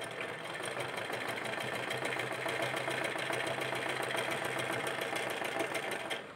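Electric sewing machine stitching a cloth face mask, running steadily with a fast, even mechanical whir and needle chatter throughout, close and fairly loud, with no talking.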